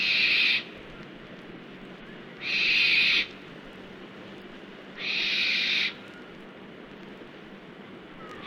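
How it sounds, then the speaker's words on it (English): A barn owl gives three eerie, drawn-out screeching calls in open woodland, each about a second long and evenly spaced, loud and close over a steady background hiss. "it may be possible to hear the eerie sound of a barn owl that's been roosting in a thorn or other"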